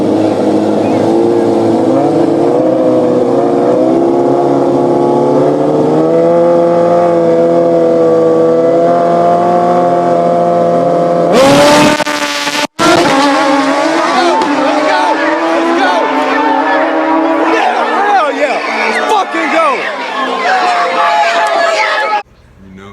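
Suzuki GSX-R 1000 motorcycles scream loudly through a grudge drag race, engine tones wavering and climbing through sustained high revs, with a sharp break partway and crowd chatter mixed in.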